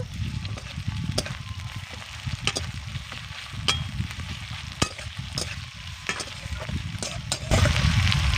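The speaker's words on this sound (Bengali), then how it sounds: "এবার পেঁয়াজকে নরম করে ভেজে নেব" Sliced onion frying in oil with five-spice seeds (panch phoron) for a rohu fish curry, a steady close sizzle broken by repeated scraping clicks of a spoon stirring the pan, getting louder near the end.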